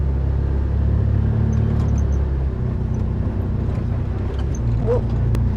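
A tractor drives up toward a garden area, its steady low engine rumble running continuously at close range with no speech over it.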